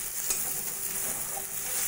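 Spice paste with Kashmiri chilli powder fries and gets stirred, a dense, even sizzle close by for a brief moment, no talking.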